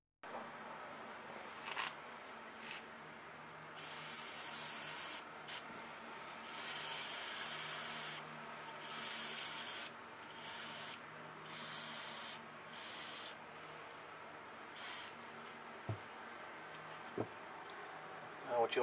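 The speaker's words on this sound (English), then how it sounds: "we can flood it with some brake clean and then pressure blow it out" Compressed air blasting brake cleaner out of a Briggs & Stratton carburetor, repeated sharp hissing bursts of varying length over a low background hum, close and fairly loud.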